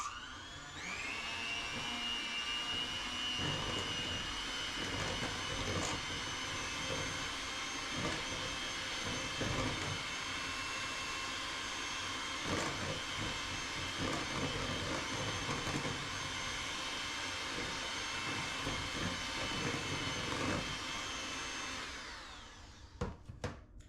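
Electric mixer whirring steadily for about twenty seconds as it blends cranberry orange bread batter with orange juice, a loud, even drone with a slight pitch shift near the start, then cutting off at the end.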